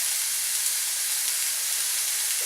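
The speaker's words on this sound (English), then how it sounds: "I'm going to let that continue to sear." Low-fat ground meat searing in a pan gives a steady, bright, close sizzle that holds even and unbroken from start to finish, with no talking.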